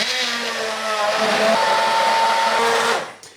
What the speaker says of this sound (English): So hand blend, as I mentioned before, and go ahead.